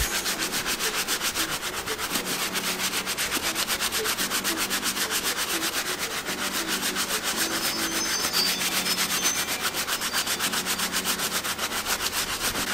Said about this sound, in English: Start with the soft bristle brush on that.